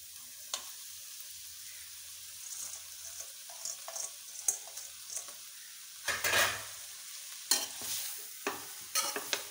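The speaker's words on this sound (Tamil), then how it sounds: "நான் 1 ஃபோர்க் வச்சு கலக்கிறேன்" Cooked veg noodles tossed in a pan with a fork, soft intermittent scrapes and clinks over a faint sizzle, with a couple of louder bursts of stirring near the end; no one speaks.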